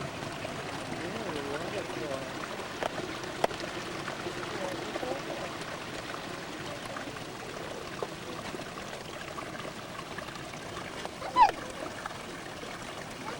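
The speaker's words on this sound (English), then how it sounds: "Look at that waterfall!" Steady rush of falling water from a waterfall at a Hawaii living reef display, a constant broadband wash running throughout with faint voices and a brief sharp sound near the end.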